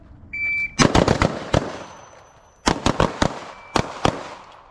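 Carbine shots from a transition drill ring out in quick clusters, about six sharp, loud reports fired fast in groups over a few seconds, preceded by a short electronic beep.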